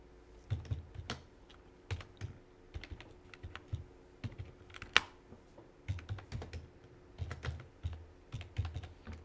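Steady typing on a computer keyboard while code is entered for a multi-level inheritance programming example, with close, crisp key clicks in uneven bursts and short pauses, no voices.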